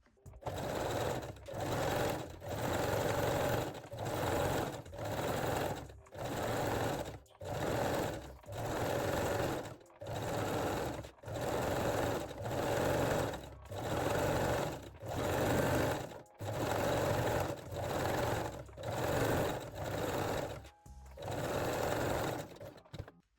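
A sewing machine stitching fold-over elastic onto a sports bra neckline runs in a long series of steady, even bursts of rapid mechanical whirring, each separated by a brief pause, close and clear with no talk.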